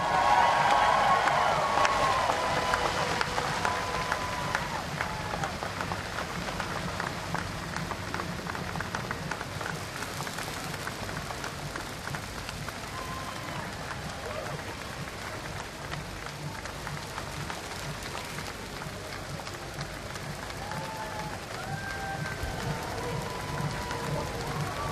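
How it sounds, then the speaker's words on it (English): Crowd applause at the London Marathon tribute to John Disley, a dense, steady outdoor clapping from a large gathering that holds for the whole stretch, with faint distant voices underneath. "let us now all join together in applause to remember this remarkable man"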